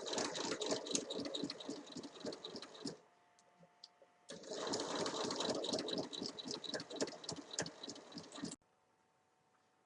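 A sewing machine runs a long straight seam along a fabric bag, a rapid even mechanical stitching rattle close up, broken by a brief pause before it resumes and then stops abruptly.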